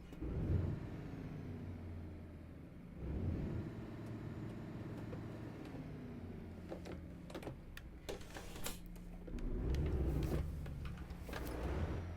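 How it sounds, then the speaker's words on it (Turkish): Renault truck engine in Euro Truck Simulator 2 drones low and steady with rising and falling revs, joined by sharp clicks and mechanical ticks later on, with no talk over it. "Biraz daha ses kalın olmuş motorun."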